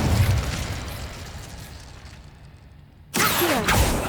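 Incendio fire spell cast in Hogwarts Legacy: a loud explosive burst that decays into a fading roar, followed about three seconds later by a second sudden blast of flame.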